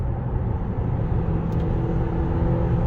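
Opel Insignia Cosmo 170hp accelerating at full throttle, a loud continuous engine drone heard from inside the car, steady throughout.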